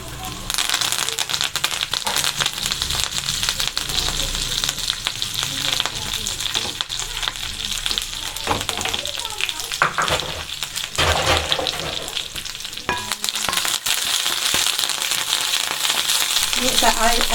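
Curry leaves crackle and sizzle loudly in hot oil with ginger in a pan for papaya pulissery, a dense continuous spattering fry close by, broken by occasional stirring rattles, with a voice speaking over it.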